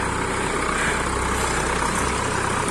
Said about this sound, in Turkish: Şu anda sağlık ekiplerimiz traktörle geliyor.